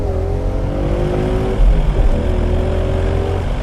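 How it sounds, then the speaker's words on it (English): A 2017 Ford Mustang GT convertible drops a gear and pulls away. A steady engine drone gives way to a louder surge partway through, and the pitch climbs under acceleration with no voices. "Yuri, downshift and go"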